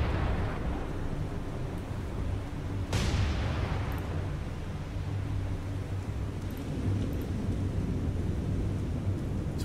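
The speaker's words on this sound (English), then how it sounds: "Flare rounds already popping." Naval guns firing star shell flare rounds in the War on the Sea game, a sharp gun report a few seconds in with a decaying tail, set against a steady loud rumble of battle ambience and distant booms.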